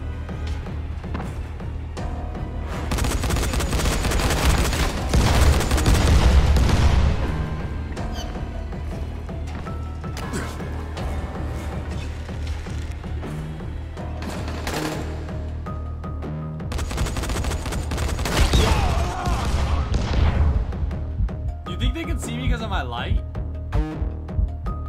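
Rapid bursts of gunfire from the Dying Light video game crackle throughout, dense automatic volleys rising and falling in loudness across the stretch, with players talking over the shooting.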